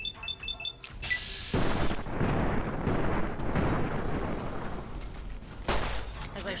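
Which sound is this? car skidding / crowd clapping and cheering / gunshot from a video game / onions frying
gunshot from a video game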